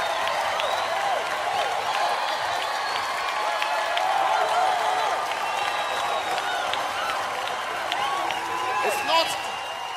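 Studio audience on Nigeria's Got Talent applauding the Naturals, a sustained, dense wash of clapping with cheers and whoops mixed in, holding steady and fairly loud throughout.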